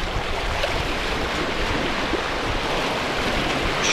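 Baltic Sea surf on the spit at Rewa, Poland, gives a steady broad wash of rolling waves with wind, continuous and close, with no voices.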